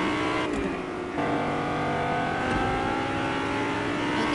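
A Lamborghini engine revving while driving in a video game: a steady, mid-pitched engine drone that holds at constant loudness without pause.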